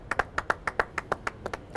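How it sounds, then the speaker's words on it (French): A few people clap hands in a short, uneven burst of about a dozen distinct claps during a televised cooking competition, close and clear with no talk over it. "On applaudit."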